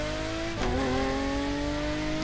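High-pitched screaming engine of the SCV12 supercar in The Crew Motorfest racing game, loud and sustained, its harmonic whine briefly dipping around a gear change then climbing steadily again, with no talking over it.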